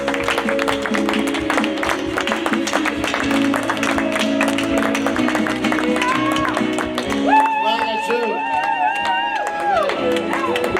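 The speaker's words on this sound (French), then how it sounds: "On va applaudir encore bien fort notre roi." Applause and cheering at a wedding celebration, with the crowd clapping loudly throughout while music and voices carry over the top, including a sustained singing voice near the end.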